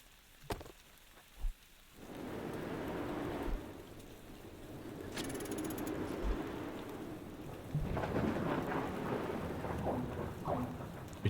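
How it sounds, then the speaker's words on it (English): Steady rain hisses over rumbling thunder in the Parkitect theme-park video game, with a couple of sharp cracks at the start before the downpour settles into a continuous wash that swells again toward the end. "I like that sound of that rain, though."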